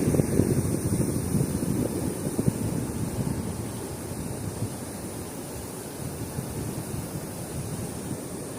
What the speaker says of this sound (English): it was like the wind also picked up